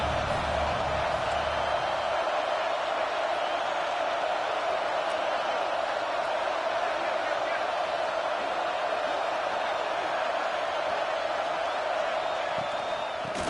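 Ohio State Buckeye football crowd on third down, a steady, dense stadium roar of cheering that holds at an even loudness throughout without pause.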